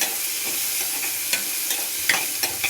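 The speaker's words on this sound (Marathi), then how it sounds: "टोमॅटो टाकून घेतला आता तो परतून घेते" Tomato sautéing in a pan, a close steady sizzle broken by repeated soft scraping stirs and occasional louder clacks of the spoon.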